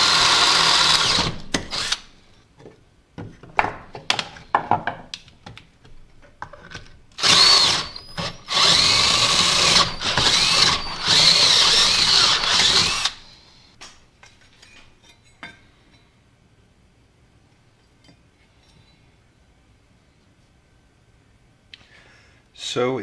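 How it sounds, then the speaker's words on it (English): A power drill fitted with a 1/2 inch bit bores through the riveted motor mount of an Impala's LT1, coming in loud repeated bursts of grinding whine, then stopping into near silence with faint background noise. "Took a 1/2 inch drill bit to actually do it, to break those rivets loose"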